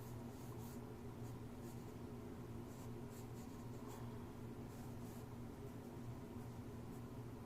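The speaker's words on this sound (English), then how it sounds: "I'm going to lightly sketch it in" Pencil lightly sketching on paper while drawing a still life of a tall cup and enamel pitcher, faint soft scratchy strokes in short bursts over a steady background hum.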